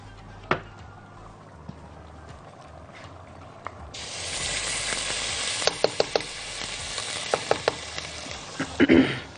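Ghee (samna) heating in a pot for béchamel, a quiet background that opens into a bright steady sizzle, with sharp metallic taps and clinks from utensils.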